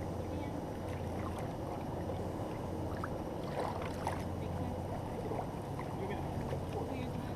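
Paddles of a war canoe crew working the water during a college practice session, with steady splashing and rushing water beneath wind noise and people talking.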